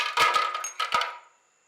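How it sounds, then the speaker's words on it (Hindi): Ice cubes clatter into a blender jar for a mango shake in a couple of quick bursts of hard, clinking knocks, then a brief ringing fade. "ब्लेंडर के जग में डालेंगे आइस क्यूब्स"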